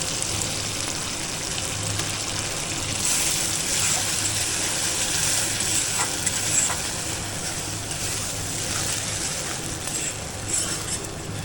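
Onion sautéing in a pan with ginger, garlic, green chili and tomato for a prawn malaikari, giving a steady, continuous close sizzle and hiss with a low background hum throughout.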